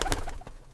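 A pigeon gives one short, soft coo, close and alone in a quiet setting.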